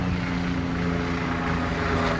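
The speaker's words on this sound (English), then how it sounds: "it's not a Houston video without a helicopter" A helicopter passes over a front-yard garden in Houston, Texas, giving a steady, moderately loud drone of engine and rotor that holds constant throughout, with no voices.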